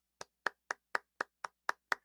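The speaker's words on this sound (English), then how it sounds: "I'm gonna give them a little clap." A single person claps eight times at an even, steady pace, crisp and close, with silence between the claps.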